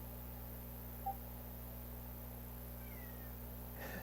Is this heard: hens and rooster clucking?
no